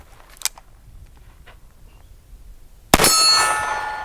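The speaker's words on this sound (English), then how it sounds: "I trust it with some steel, so we'll shoot some steel with it, see what happens." A .44 Magnum Smith & Wesson 629 Stealth Hunter revolver firing 180-grain rounds at a steel target: a faint early pop, then a sharp, loud metallic clang that rings and slowly decays.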